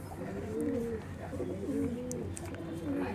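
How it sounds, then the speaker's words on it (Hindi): White-eyed pigeons in a breeder's loft give soft, rolling coos in repeated phrases, close and fairly quiet, over faint background noise. "वाइट आइस का कबूतर है।"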